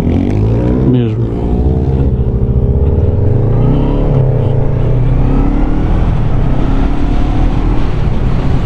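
Macbor Eight Mile 500 Street motorcycle engine on a test ride, a loud, continuous drone whose pitch climbs and shifts through gear changes, close to the microphone with wind rush and little talk.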